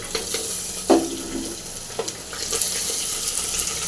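Mustard seeds, chilli and crushed garlic fry in hot oil for rasam, with a close, continuous sizzle broken by sharp crackling pops.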